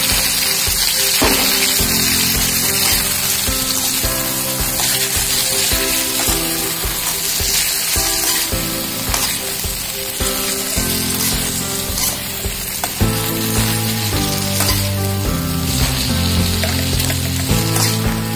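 Okra added to tomatoes frying in a pan for a village-style okra tamarind curry, giving a steady, continuous sizzle that runs beneath prominent background music throughout.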